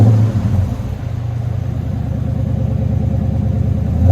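From inside the cabin, a Chrysler 300C with a 5.7L HEMI V8 exhaust gives a low, pulsing rumble at steady idle that rises slightly at the end. It is close and loud, with no talk.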